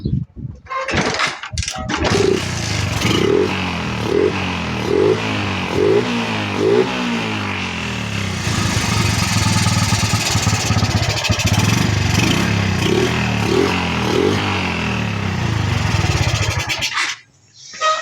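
A Suzuki Shogun motorcycle engine, its carburetor being tuned for a misfire problem, revs repeatedly in short sharp bursts over a rough idle, close and loud, the blips coming in a rhythmic series with some sustained revving between them.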